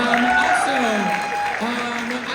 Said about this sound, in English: And again, round of applause to Dottis on the piano